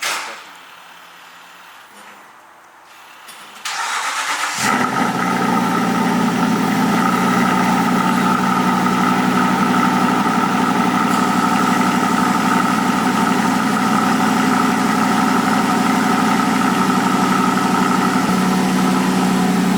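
An Aston Martin Vantage cold-starts after the fuel pump primes, with a quiet whir that jumps into a loud, steady, close idle rumble.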